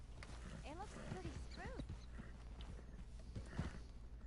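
Horse in Red Dead Redemption 2 clip-clopping at a walk, with faint whinny-like calls over a low rumble, soft and fairly distant, a voice speaking underneath.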